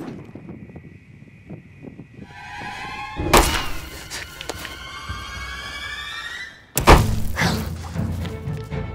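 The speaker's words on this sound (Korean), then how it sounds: "본격적으로 시작된 사냥에 총성은 동시다발적으로 울려 퍼집니다." Gunshots ring out during a fox hunt in a film, two loud sharp blasts with ringing tails, one midway and one near the end, over outdoor ambience and a horn-like tone.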